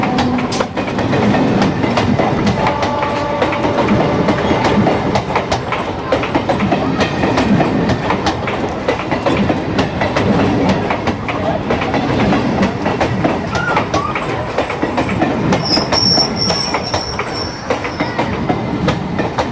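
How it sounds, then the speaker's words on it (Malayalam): A train rolls slowly down Hanoi's narrow Train Street in Vietnam, steady loud rumble and clickety-clack of wheels filling the whole stretch, with a brief wheel squeal near the end. "The train is coming,"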